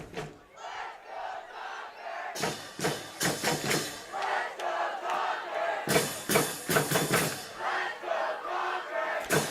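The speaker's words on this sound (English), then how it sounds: "Oh, the crowd's making some noise." A high school football game crowd roars with a band playing, loud bursts of cheering and brass-like blasts rising and falling in waves across the whole stretch.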